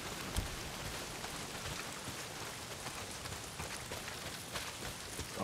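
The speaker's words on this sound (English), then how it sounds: "Not if it's pissing down rain." Steady heavy rain pours down in a video game scene, a dense, even hiss of drops on surfaces throughout with no voices, loud and close on all sides.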